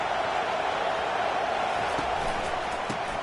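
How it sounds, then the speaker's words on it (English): A college football stadium crowd in a video game keeps up a steady, dense roar throughout, broad and sustained, with a faint thump or two near the end. "listen to the roar of this crowd"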